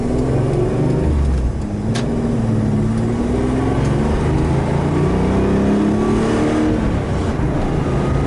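A Subaru EG33 flat-six engine, naturally aspirated and newly swapped, hums and climbs in pitch as the car accelerates, a steady loud drone from inside the cabin with gradual revving.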